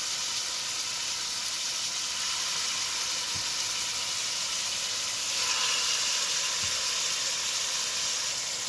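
Stew beef fries in hot oil in a pot with a soft, steady sizzle and hiss that carries on evenly at moderate distance, with no talking over it.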